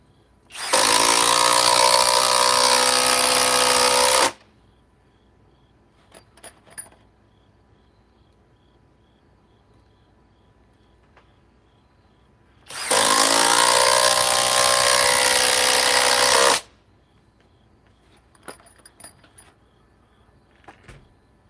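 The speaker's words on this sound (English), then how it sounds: "Me testing the cobalt impact driver versus the rigid impact driver" Kobalt and Ridgid impact drivers, each rated at 2,400 inch-pounds, run in two loud, dense bursts of about four seconds each, separated by a long quiet gap with a few light clicks and handling sounds.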